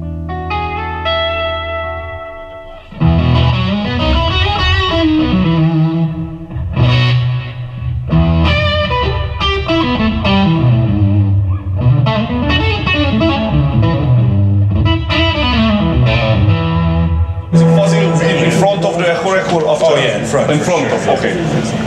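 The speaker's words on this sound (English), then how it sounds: "this is the Catlin Brett Echo Rec, which is my favorite delay pedal" An electric guitar plays through a Catalinbread Echorec delay pedal in a gear demo, loud distorted notes and chords trailing repeating echoes and reverb, sustained throughout with a brighter, heavier passage near the end.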